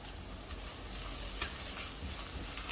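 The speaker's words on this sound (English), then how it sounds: "Continue stirring. Just break up the belachan. Mix it well." Belachan paste for Indonesian prawn curry sizzles and fries steadily in a hot pan while being stirred, a dense continuous crackle up close, with faint scraping and no talk.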